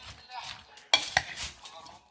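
Roasted lamb head being stirred and mixed together with vegetables in a dish, a short burst of scraping clatter from utensils over quiet kitchen background, with two sharp clinks near the middle.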